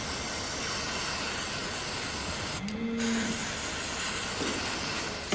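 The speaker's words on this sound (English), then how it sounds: "Carve out the model and give it a good spray." A steady, loud spray hisses continuously over a freshly trimmed hoof, with a brief pause partway through before the spraying resumes.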